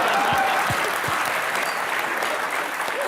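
A studio audience at a televised comedy show bursts into loud, sustained applause, dense clapping that fills the whole moment with a few cheers mixed in.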